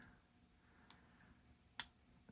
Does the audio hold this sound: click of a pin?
yes